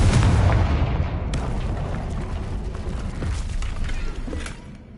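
Spell blasts from the Bombarda and Confringo charms in Hogwarts Legacy, a loud booming burst at the start that trails into a rumbling, crackling decay with a few smaller pops, fading out near the end.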